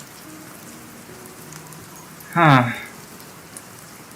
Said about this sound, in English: the rain was still going